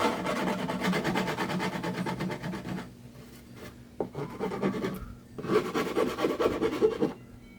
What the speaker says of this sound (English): so what you want to go ahead and do is file it down